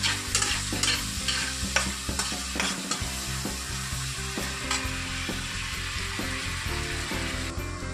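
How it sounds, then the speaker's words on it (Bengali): Onions fry in oil left over from frying meat, with a loud, dense, continuous sizzle close by, broken by a rhythm of spatula stirring and scraping throughout. "এর মধ্যে এবারে পেঁয়াজটা ভাজতে থাকুক।"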